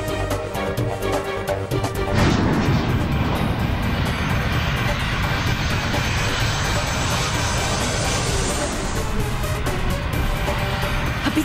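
An airplane engine roaring as the aircraft descends with its wheels not yet lowered, a loud steady drone that swells and holds for several seconds, close and dominant.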